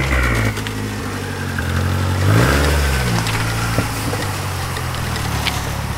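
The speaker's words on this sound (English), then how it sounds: "my man's Alex is right there coming in his beautiful Speed 6." A turbocharged 500 hp Mazdaspeed6 AWD with a built motor and big turbo pulls in close by, its engine note rising in a loud rev midway and then settling into a steady rumble.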